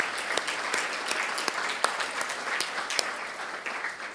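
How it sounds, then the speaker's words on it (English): Steady audience applause fills a luncheon room for military appreciation, continuous dense clapping with a few sharper claps standing out, fairly loud and close with no talk over it. "let's give another round of applause to Army Staff Sergeant Esther Yun Jung Kang"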